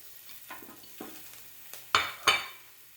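Garlic and onions hit hot canola oil in a pan, a quiet hiss with a few soft taps, then two loud, close bursts of sizzling as more goes in.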